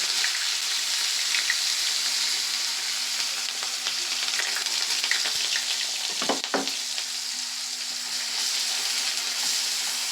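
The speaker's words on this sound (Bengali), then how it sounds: "পেঁয়াজটাকে একটু ভালো করে লাল লাল করে ভেজে নেব।" Sliced onions and black cumin sizzle steadily in hot oil in a pan for a Bengali rohu fish dish, a loud continuous frying hiss with a brief stirring scrape midway.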